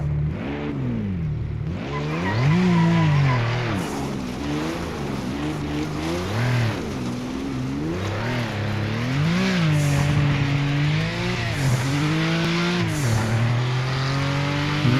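A turbocharged race car engine in the Project Motor Racing video game revs up and down repeatedly through gear changes, loud and close, with rising and falling pitch sweeps and no talk over it.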